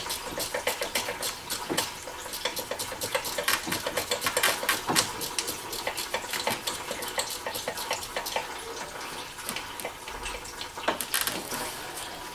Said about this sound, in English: now I'll just switch over to a ratcheting wrench